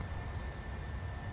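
A PMDG 737-700 climbs out in Microsoft Flight Simulator, its engines a steady, even low roar with a constant broadband rush and no talk over it.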